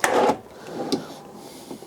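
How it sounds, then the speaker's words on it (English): A full-extension kitchen drawer in a 2013 Newmar Bay Star 3012 Class A motorhome slides with a brief rolling rumble, followed by a soft thump and a fainter slide, close by with no voices. "Nice full extension drawers."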